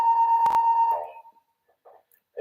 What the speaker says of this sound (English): The fire alarm has been activated on the first floor.